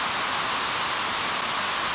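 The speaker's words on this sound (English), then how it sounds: "You can hear the white noise." A steady white noise test signal hisses evenly and loudly across the whole short stretch, with no other sound.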